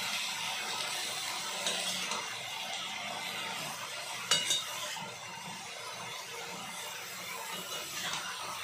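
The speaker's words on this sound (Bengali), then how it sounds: "এইবার চলবে নাড়ানো চালানো।" Vegetable curry stirred in a pot with pumpkin and radish, a steady wet scraping and sloshing with faint sizzle throughout, plus a sharper clank near the middle.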